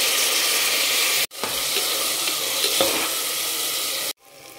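Tomato frying in hot oil for mushroom pulao, giving a steady loud sizzle with stirring, broken by two abrupt cuts to near silence.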